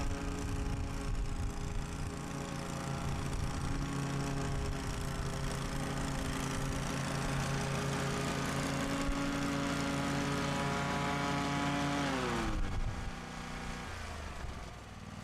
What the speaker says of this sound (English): Mowing a second time from a different angle will give a smoother cut and level off some of the dead grass